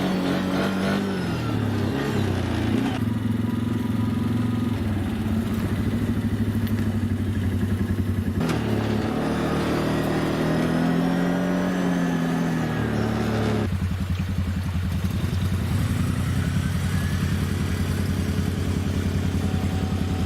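Quad ATV engine droning steadily while driving a long trail near the Saguenay fjord, loud and close with rising and falling revs and gear shifts, no talking.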